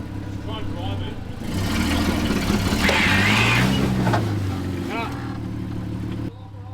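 A Toyota Landcruiser engine revs hard while the truck crawls over rocks on a rough track, rising to a loud sustained roar mid-clip before easing off. A voice speaks briefly over the engine.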